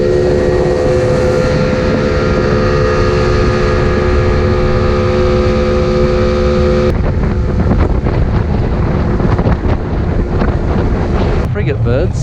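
Small boat with an outboard motor crossing open water off Barbuda, a loud steady engine whine that drops in pitch midway, mixed with heavy wind buffeting the microphone and splashing.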